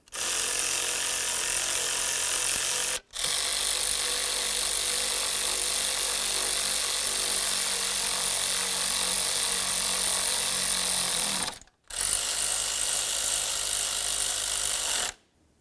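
A power tool whirs steadily on the serpentine belt tensioner mounting bolts of a 2000-2005 Buick LeSabre, three long loud runs of about three, eight and four seconds with brief pauses between them.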